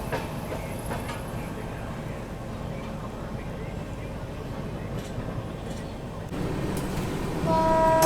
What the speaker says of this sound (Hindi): Superfast Express has arrived on platform